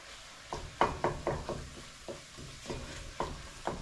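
Onions frying and being stirred in a pot for Cajun deer sauce piquante over a raised flame, a steady sizzle broken by repeated scraping, knocking spoon strokes at close range.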